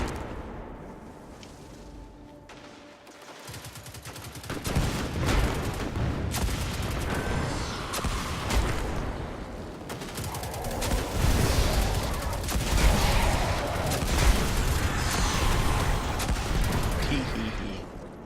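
Scorch Cannon firing in Destiny 2, heavy repeated blasts and explosive booms building from a quieter start into sustained loud, chaotic firing with rumbling impacts, with a voice talking at times underneath.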